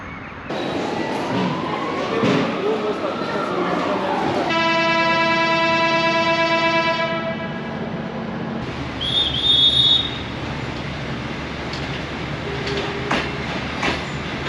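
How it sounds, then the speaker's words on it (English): The Chisinau Express sleeper train from Bucharest rolls into the station with rumbling wheels and screeching brakes, then a long sustained horn blast in the middle, followed by a brief high squeal and continued rolling. "here's the Chisinau Express rolling in just a few minutes before its scheduled departure"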